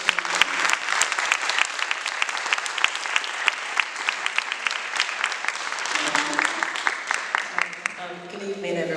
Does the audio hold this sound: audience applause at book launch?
yes